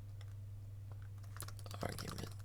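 Someone types quickly on a computer keyboard, with a run of close, crisp key clicks over a steady low electrical hum and no talking.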